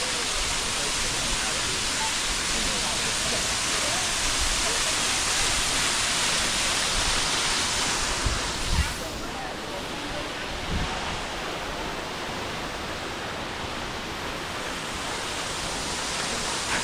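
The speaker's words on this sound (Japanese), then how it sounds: "そう、美濃の滝ですよ。" Steady broadband roar of Mino Falls, constant and fairly close, with a slight drop in level partway through and a few soft bumps.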